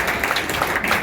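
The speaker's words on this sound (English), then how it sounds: "So let's give him a round of applause." Applause from the audience at a bipartisan congressional open house on Capitol Hill, greeting the new chair of the Foreign Affairs Committee; a steady, dense patter of many hands clapping close by, with no break through the short burst.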